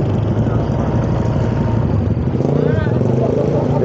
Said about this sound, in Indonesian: Kita coba pakai motor.